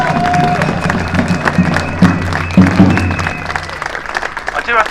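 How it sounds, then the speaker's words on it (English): A crowd at a Palestine Solidarity Campaign march gathering in London claps and cheers for an 87-year-old Holocaust survivor protester, steady applause rising in brief swells over a low hum, with voices mixed in. "Give him a big round of applause before he comes."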